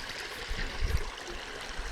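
Shallow water trickling and running through a gold sluice box set nearly flat with light flow, a steady close babble with a few low gurgles.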